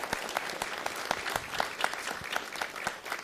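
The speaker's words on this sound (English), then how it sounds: "give them a round of applause, please" A city council chamber audience in Las Vegas applauds local fire inspectors, a steady run of dense hand clapping lasting the whole stretch, moderately loud and close with no voices over it.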